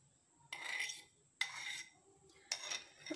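Egg batter for zinger burger coating being mixed in a bowl: three separate bursts of utensil scraping and clinking against the bowl, close and fairly quiet, with near silence between them.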